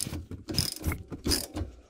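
A ratchet wrench clicks in short bursts while loosening a brake caliper bolt during a rear brake pad change on a Peugeot 307 HDI, close mechanical ratcheting in a few quick strokes with no speech.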